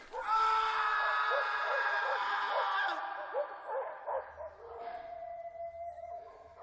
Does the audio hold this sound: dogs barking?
yes